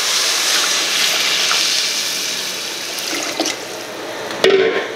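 Water pours into a soup pot holding a butter-and-flour roux, a steady rushing splash that eases off before a sharp clank near the end, with no talking.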